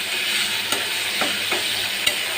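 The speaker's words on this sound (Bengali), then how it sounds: "আমি ভালো মতো শুটকিগুলোকে মশলার সাথে ভেজে নেব" Dried fish frying with spices in a pan over medium heat, a loud, close sizzle punctuated by several sharp stirring scrapes at irregular intervals, with no talking.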